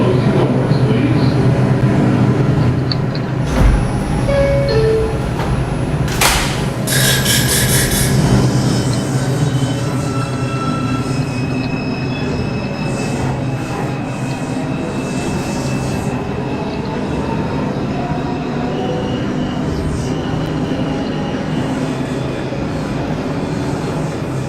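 An NYC subway R142 car on the 5 train runs between Flatbush Avenue and Winthrop Street, with a loud steady rumble, wheel squeals and hiss bursts early on, then a sustained roaring ride with whining tones.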